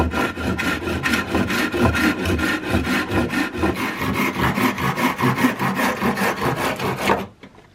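A length of holly wood is hand-sawn with steady, rhythmic back-and-forth strokes, close and loud throughout, before stopping abruptly at the end.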